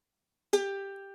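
A single ukulele top string tuned to G is plucked once after silence, a clear bright note ringing out and slowly fading.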